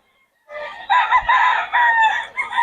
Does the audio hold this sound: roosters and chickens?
yes